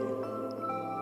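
Water dripping in a rainforest on the West Coast of New Zealand, soft single drips over a steady, quiet ambient background.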